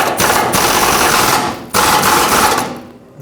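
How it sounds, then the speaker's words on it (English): An impact wrench drives transmission mount nuts onto a 2004–2009 Ford F-150 5.4L, two loud, rapid rattling bursts close by with a short pause between them. "let's finish it up by putting the transmission mount nuts back on"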